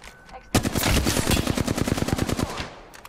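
Rapid automatic gunfire in the battle royale game Apex Legends, a loud sustained burst of closely spaced shots lasting about two seconds after a brief quiet lead-in.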